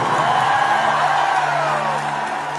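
A large concert crowd at a show roars and whoops in a loud, sustained wall of cheering, with voices rising and blending together throughout.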